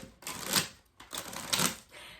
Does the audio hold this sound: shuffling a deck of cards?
yes